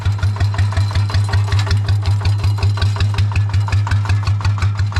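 A tractor engine idles steadily and rhythmically with a low chugging thump repeating about four times a second, close and loud, no voices.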